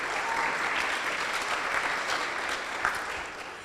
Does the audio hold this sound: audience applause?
yes